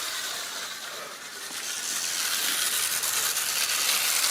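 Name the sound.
Hornby O gauge clockwork locomotive running in garden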